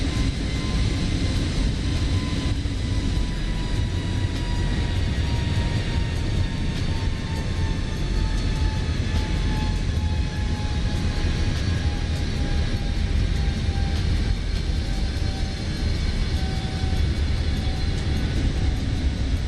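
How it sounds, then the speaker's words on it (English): A jet airliner climbs to cruise altitude on a simulated delivery flight from Tianjin to Hong Kong, giving a loud, constant engine roar and broadband rush with a faint, slowly falling whine over it, steady throughout. "our engine's pulling back up for our next climb to our final cruising altitude"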